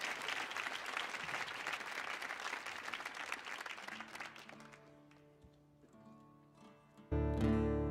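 Audience applause at a live concert at the Kennedy Center Millennium Stage: dense clapping and some cheering that thins out and fades, followed by sustained instrument tones as the music starts.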